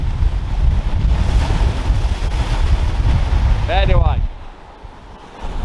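Wind blowing at the seashore at Southsea by the rocks, a loud continuous rushing buffet over the microphone, with a brief spoken word near the end before the gusting drops off.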